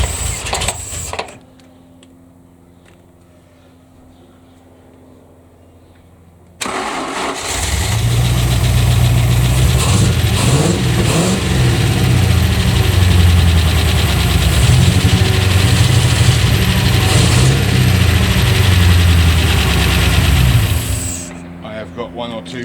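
A rat rod's freshly built engine cranks and fires after a quiet stretch, then settles into a loud, lumpy idle with a rhythmic misfire, running for about fifteen seconds before shutting off.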